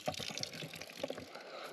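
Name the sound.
filling bottle with mountain spring water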